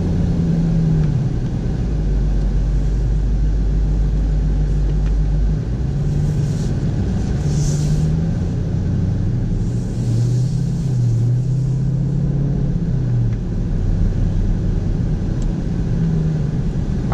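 Dodge Durango SRT 392 pulling out of a dealership under light throttle, a steady deep engine rumble heard from inside with gentle rises and falls in pitch as it accelerates, continuous and close, no talking.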